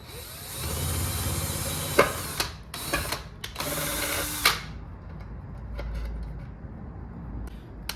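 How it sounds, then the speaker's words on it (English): A power drill whirs in short bursts, biting and stopping several times as it drills holes in a paint can, with a few clicks and clunks between runs and quieter handling noise after. "You drill in 2 holes"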